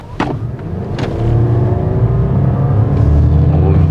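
A Toyota Crown 2.5-litre hybrid with electric all-wheel drive pulls away and accelerates, its engine drone rising and holding steady, heard from inside the cabin with a couple of faint clicks early on.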